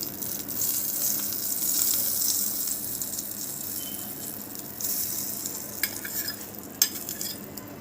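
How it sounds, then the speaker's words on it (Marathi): Hot oil tempered with cumin, asafoetida and red chilli powder is poured over boondi raita, giving a hissing sizzle with wet stirring noises up close, then a few faint clicks near the end. "ही फोडणी आपण अशी रायत्यावर पसरवायची"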